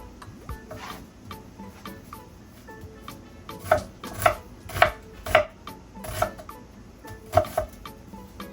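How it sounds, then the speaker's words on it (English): A knife slices meat into slices and chunks for an oxtail-style dish, giving a series of sharp, distinct cutting thuds against the board, sparse at first and then coming in a steady rhythm, close and clear with no talking. "I'm gonna cut mine probably into slices and chunks, depending on how I'm feeling during the cooking process"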